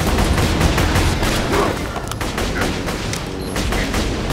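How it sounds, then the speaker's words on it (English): Machine gun fire in Borderlands 2, a loud, unbroken rattle of rapid shots with overlapping bursts that stays intense throughout the short stretch. "machine gun"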